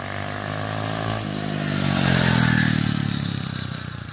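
A 125cc mini bike engine runs close by, a buzzing harmonic drone that rises in pitch and loudness midway as it revs, then eases slightly, with some clatter and no talking.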